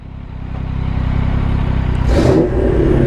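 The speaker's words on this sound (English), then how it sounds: "Rev it for a second." A 25-year-old car engine fitted with headers revs loudly nearby, a deep steady rumble building in strength and then surging with a sharper blip near the end, no talking over it.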